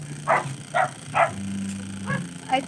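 Several dogs barking in short bursts at a stranger, four or five sharp barks spaced across a few seconds with a steady hum underneath, heard indoors at moderate distance.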